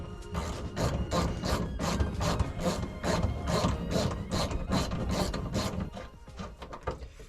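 A wrench ratchets out a seat belt bolt inside a 1984 VW Rabbit, a steady series of rapid clicking strokes with short pauses, close and fairly quiet.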